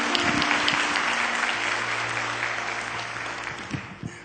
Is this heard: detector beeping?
no